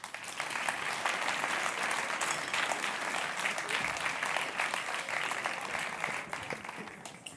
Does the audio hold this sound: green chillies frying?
no